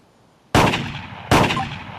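Two loud shotgun blasts boom in the VR clay shooting game Clay Hunt, close and sharp with long decaying tails, the second following under a second later.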